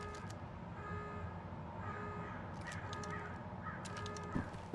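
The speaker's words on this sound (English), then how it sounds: "I like those bird sounds though." Crows cawing in the game Wolfenstein: The Old Blood, several harsh calls at a middle distance over a steady low ambient rumble, with no talking.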